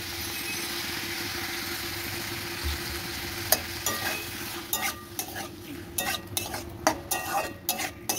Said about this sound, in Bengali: দিয়ে এটাকে একটু নেড়ে চেড়ে নেবো